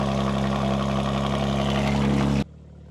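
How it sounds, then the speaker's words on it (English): A tuned BMW with Valvetronic exhaust, downpipes and a stage 2 tune runs with a loud, steady, deep exhaust drone that drops off sharply near the end. "let's hear the start up with the Valvetronic, downpipes, and the stage 2"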